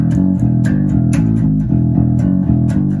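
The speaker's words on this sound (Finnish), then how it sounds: "nyt minulla on kädessä sähköbasso" An electric bass played with the fingers plucks a run of deep, distinct notes in a steady rhythm, close and fairly loud with no voices.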